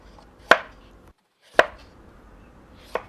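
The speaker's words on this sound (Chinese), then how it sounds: "南瓜切去外皮" A knife strikes a board three times as the skin is cut off a pumpkin: sharp, isolated chops roughly a second apart, close and clear with near silence between them.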